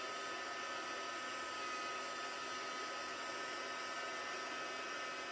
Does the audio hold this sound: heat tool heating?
yes